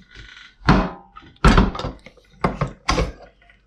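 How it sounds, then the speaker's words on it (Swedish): A crown capper presses a cap onto a freshly filled home-brewed beer bottle, giving several hard, close thunks and clunks with short pauses between them, with no talk. "På med kapsylen och så i kapsylpåsättaren."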